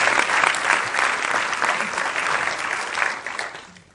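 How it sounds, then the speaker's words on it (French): Audience at a film premiere for a documentary about Roundup gives a loud, sustained round of applause, many hands clapping densely and steadily before tapering off toward the end. "on l'applaudit aussi"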